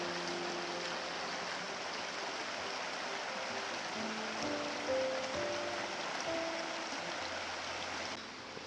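White Oak Creek flows in a soft, steady wash of running water, fairly faint and continuous, with a few faint tonal hums in the background and no talking.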